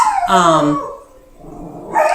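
A dog at home barks and breaks into a drawn-out howl, loud and close, the howl sliding down in pitch before fading, then another bark starts at the end.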